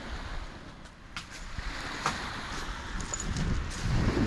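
Moderate ocean waves roll steadily onto the shore of an island beach resort, a continuous broad wash of surf with wind noise, rising slightly toward the end, with no voices.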